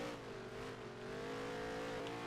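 A NASCAR race car in NASCAR Heat 3 accelerates hard after a launch from the start, its engine holding a loud, steady high-revving drone with harmonic whine and no talking.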